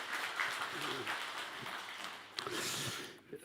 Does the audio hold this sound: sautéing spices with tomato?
no